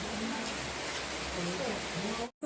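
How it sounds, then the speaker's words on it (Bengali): Heavy evening rain pours during a nor'wester storm, making a dense, even, close rushing hiss with no breaks until a brief cut at the very end. "বৃষ্টির শব্দটা শোনো কিন্তু প্রচুর বৃষ্টি হচ্ছে"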